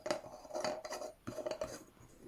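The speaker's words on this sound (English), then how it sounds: "then I'll be able to put the lid back on" A metal lid is fitted back onto a small Czech Prema alcohol stove, producing a few close, light metallic clinks and scrapes in quick irregular bursts.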